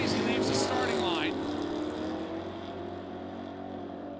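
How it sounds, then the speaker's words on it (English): A Ford Fairmont drag car pulls small wheelies as it launches off the starting line, its engine roaring loud at first, then fading into a steady, receding drone. "Does some baby wheelies, he leaves the starting line."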